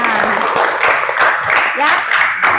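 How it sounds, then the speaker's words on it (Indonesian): An audience in a classroom claps after group presentations in a teaching-performance session, a dense patter of clapping with cheering voices mixed over it throughout. "Mari kita beri aplaus untuk semuanya. Tepuk tangan."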